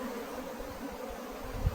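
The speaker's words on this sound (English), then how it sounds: "I think they're basically happy bees." Honey bees at an opened hive during a late-season inspection make a steady, soft, continuous hum close by, with no talking.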